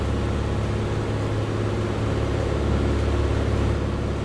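A steady, droning airliner engine hum in Microsoft Flight Simulator 2024 at Stuttgart Airport, a constant loud tonal rumble with no pauses and no talk.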